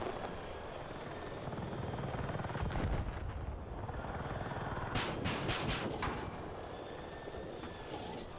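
Attack helicopter in the video game Battlefield 6, a steady loud rotor and engine drone filling the whole stretch with no talk, with a few sharper bursts of firing or impacts around the middle.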